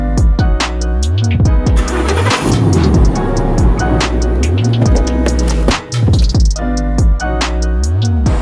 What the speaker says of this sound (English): jumping back into the Mustang now, and then Charlie's going to drive us over to Malibu